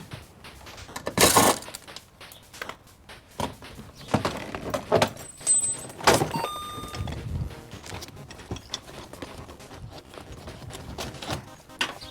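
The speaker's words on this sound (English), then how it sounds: "that's how you remove the door trim on a 300ZX" Plastic door trim being pried and pulled off a Nissan 300ZX door, with sharp clicks, snaps and knocks from the clips and panel scattered over about twelve seconds, close by, plus a brief faint electronic beep.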